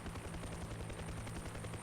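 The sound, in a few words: helicopter flying in a video game mod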